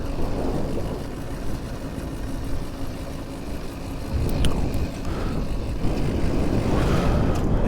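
A paramotor engine hums under steady wind rush as it comes in for a soft landing in a light crosswind, a continuous moderately loud drone without speech.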